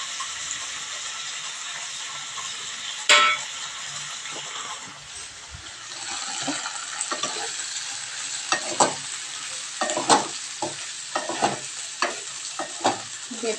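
Grated onion frying in a pan makes a continuous close sizzle, broken by repeated spoon scrapes and stirring clinks that grow busier and more rhythmic toward the end.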